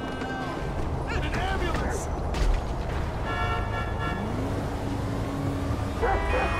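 A dog barks and yips in GTA V while a man chases it, short barks mixed with shouting voices, running footsteps and street clatter in a busy scene.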